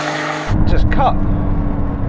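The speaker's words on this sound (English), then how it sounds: "Wow, this car's fast." A fast race car in a Ferrari, McLaren and Porsche race bursts in after a brief quiet moment, its engine roaring loud and steady for the rest of the clip, with people talking over it.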